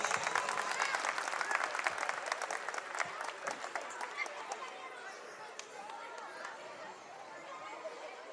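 A crowd at a school Republic Day celebration claps loudly, with chatter and children's voices mixed in. The applause gradually dies away into a general murmur.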